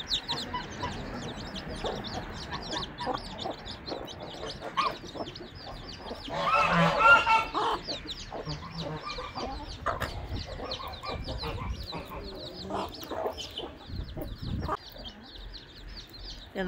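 Chicks peep constantly while hens cluck nearby, a busy, overlapping chorus of poultry with a louder burst of calls partway through.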